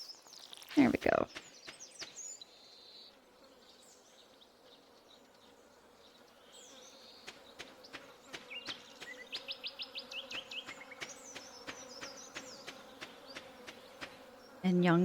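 A housefly buzzing indoors around the microphone, its drone rising and fading, with a loud bump near the start and a burst of rapid clicking later.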